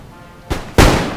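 Two loud broadband bursts of musket volley fire from green-jacket riflemen in the strategy game Empire: Total War, the second heavier and slowly decaying, with no talking.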